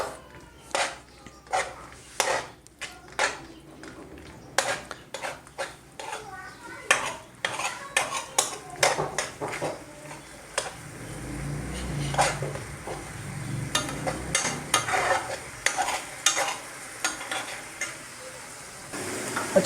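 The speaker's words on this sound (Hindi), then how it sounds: "हस्ब ज़रूरत इसमें हम घी डालेंगे और इसको हमने भून लेना अच्छी तरह थोड़ा सा।" Dates softened and roasted in ghee over medium heat, stirred with a spoon that scrapes and clinks against the pan in an irregular rhythm over a soft background sizzle, close by with no speech.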